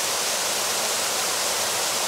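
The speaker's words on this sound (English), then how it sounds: "You probably can't hear it now because the water is just so loud." Loud, steady rushing water captured on an iPhone, a dense broadband roar like a waterfall or fast stream that holds unchanged for the whole stretch with no other sounds over it.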